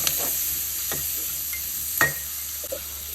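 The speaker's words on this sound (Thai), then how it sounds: "ใส่หัวหอมลงไปผัด คนเลย" Onions stir-fried in butter in a pan: a soft continuous sizzle under a few scraping stirs of a utensil, with a louder clack near the end, close and fairly quiet, no talking.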